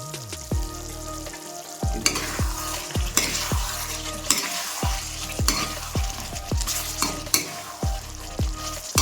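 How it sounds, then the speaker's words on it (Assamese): Local chicken pieces frying with spices and cloves in a pan over medium flame, a steady sizzle broken by repeated stirring scrapes and clanks of the spoon at a fairly even rhythm, close up with no talk. "হৈছে ভাজা মাংস।"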